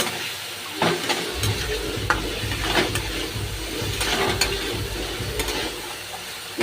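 Spices sizzling and frying in a pan with a little water while being stirred for butter masala chana, a steady close hiss with intermittent scraping stirs throughout.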